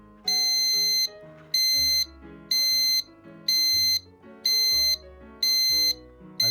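A low voltage detector alarm powered from a 12 volt supply sounds in sharp, shrill beeps, seven evenly spaced bursts of about half a second each, loud and close with no talking.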